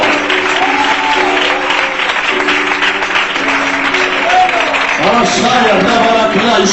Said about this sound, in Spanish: Fuerte ese aplauso para Dios, por favor.